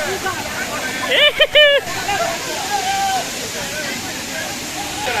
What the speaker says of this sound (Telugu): పక్కన ఇంకో వాటర్ ఫాల్ ఉంది